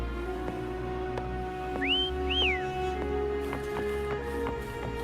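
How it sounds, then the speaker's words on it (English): Whistling to call Foam in Wuthering Waves, heard as two short rising whistle notes in the middle, over steady game music and ambience. "Try whistling."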